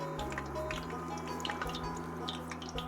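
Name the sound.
hot oil popping and bubbling while frying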